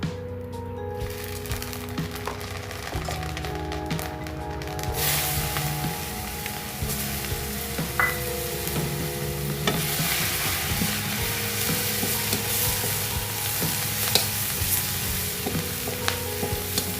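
Fish heads sizzle and crackle loudly in leftover frying oil for a Bengali chorchori, with a utensil scraping and stirring in the pan and a steady hiss building after a quieter start.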